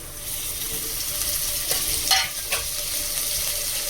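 Ginger tossed into a hot pan of oil for a Bengali fish curry, sizzling and frying steadily with a few sharper bursts of stirring as it hits the pan, close and alone.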